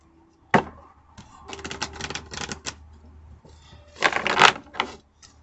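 A tarot card deck being shuffled, with a sharp riffle snap near the start, a run of fluttering card bursts, then a louder second shuffle flurry; close and clear with no talk.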